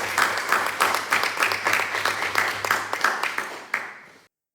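Audience applause for a speaker at a talk on illustration and comics, a steady patter of many hands clapping at moderate volume for about four seconds before stopping abruptly.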